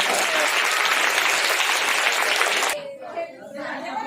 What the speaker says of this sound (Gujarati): તાળી વગાડો ભાઈ